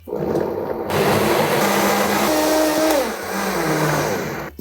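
A blender purees roasted tomato soup with a loud, steady whirring roar that starts after a brief pause and holds close and constant for several seconds, its pitch shifting slightly as the mixture thickens.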